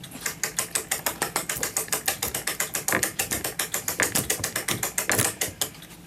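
Rapid, steady clicking of a ratchet as a 1919 Gilbert mantel clock is wound up during repair, roughly seven clicks a second, loud and close with no voices.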